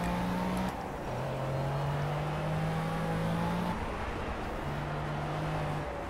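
A Mitsubishi Lancer race car in the Project CARS racing game drones along with a steady, fairly faint engine whine that climbs in pitch through each gear before shifting, several upshifts heard with no talk over it.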